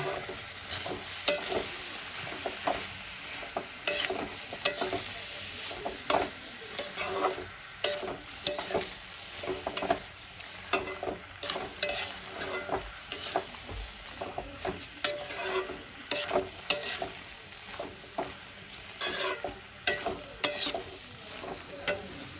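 Masala for a rohu fish curry with potatoes and onion greens frying in a pan, with a spoon scraping and stirring in a quick, steady rhythm over a continuous close sizzle, and no voices.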